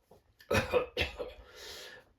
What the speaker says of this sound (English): Ecoy coughed violently as the contents of the glass slipped down his throat